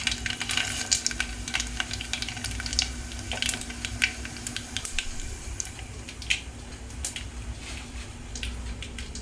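Tempering seeds spit and crackle in hot oil for a coriander, mint and tomato chutney, a continuous close sizzle with frequent sharp pops.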